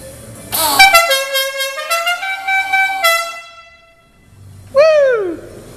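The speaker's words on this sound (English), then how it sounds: "Down the front there are all air horns." Loud multi-tone air horns on a 1966 Triumph Herald blare in a rapid stuttering burst, hold a sustained chord, cut out, then return with a falling, wailing sweep.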